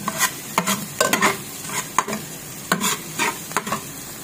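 Garlic sautéing in olive oil in a pan for beef kaldereta, with a gentle crackle under repeated, rhythmic scrapes and clicks of a spatula against the pan, close up and with no voices.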